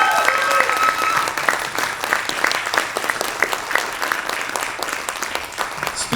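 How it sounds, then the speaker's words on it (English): Audience applause for musicians and singers on stage at a Year 10 school music concert: dense, steady clapping from a crowd that holds throughout, with a few louder individual claps standing out near the front. "give a massive round of applause for all these wonderful musicians and singers on stage"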